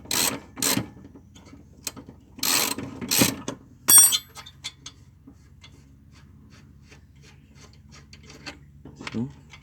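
A ratchet works loose the rear lower control arm stud on a Honda Civic EF9, giving a few short bursts of rapid clicking near the mic with quieter pauses and faint shop noise between.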